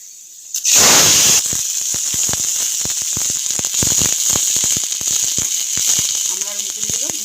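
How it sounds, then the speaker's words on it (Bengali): Panch phoron five-spice seeds drop into hot oil in a wok: a loud burst of hissing sizzle, then a steady close sizzle full of sharp, scattered popping crackles. "এখন ওই কড়াই থেকে এক্সট্রা তেল তুলে নিয়ে দিয়ে দিচ্ছি 5 ফোড়ন"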